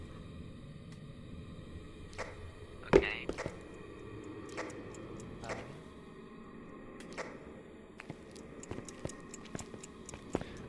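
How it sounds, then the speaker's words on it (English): Alarm clock in the video game Phasmophobia gives faint, sparse ticks scattered through a quiet room, with one sharper click near the start and soft background noise throughout. "Oh no, not the alarm clock."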